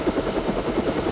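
Helicopter in the video game Deus Ex, a loud close rotor chop pulsing rapidly and evenly over a droning engine, with no voices.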